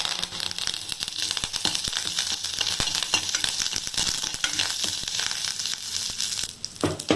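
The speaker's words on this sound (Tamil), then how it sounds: "கருவேப்பிலை போடுறேன்" Loud, crackling sizzle of curry leaves hitting hot oil, steady spattering and popping up close for several seconds with no voices.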